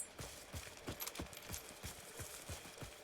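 Enemy footsteps in a video game, set on mud near a forest: a steady run of soft, evenly spaced thuds, about ten in three seconds, moderately close and alone, with no talk.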